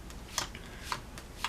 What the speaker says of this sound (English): you have to watch me shuffle on camera.